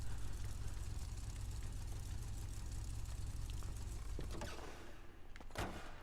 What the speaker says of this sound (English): Awesome sounding engine. I hope you guys can hear the engine.